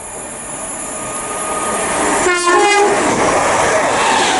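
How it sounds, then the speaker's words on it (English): A London Midland Class 319 electric train, unit 319013, runs as empty coaching stock through Tring station at speed, its rising rush growing louder with a brief two-tone horn blast in the middle, wheel noise continuing to the end. "Right past through now, we have a class 319, empty coaching stop."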